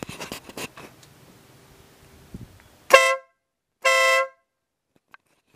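An air horn fitted to a 2013 Aprilia Tuono V4R motorcycle gives two loud, close blasts, each about half a second long, after some faint handling noise.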